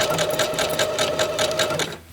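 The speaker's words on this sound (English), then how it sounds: "Now I'm just going to sew over that end bit a couple of times" A sewing machine runs steadily while stitching over the end of a coiled rope bowl, its rapid needle chatter close and continuous for about two seconds before stopping.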